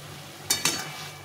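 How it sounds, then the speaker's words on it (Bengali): Half-boiled dal with mixed vegetables stirred in a pan, giving two quick scraping clinks of a spoon against the pan over a faint simmering hiss, alone and close. "ভালো করে নেড়ে চেড়ে ফুটে নিতে হবে।"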